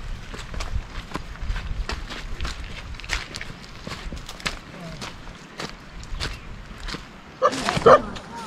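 A dog steps carefully across a bridge in rural Arunachal Pradesh. Its footfalls make a steady run of light, close taps, ending in a louder scuffling burst near the end.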